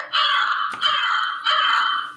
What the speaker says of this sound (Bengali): কাক